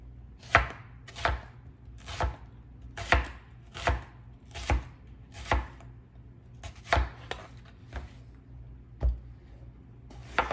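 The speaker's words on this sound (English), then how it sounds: "We're gonna just cut these peppers up." A knife cuts peppers into long strips on a cutting board, with steady, evenly spaced sharp chops close up, about twelve strokes with no talking.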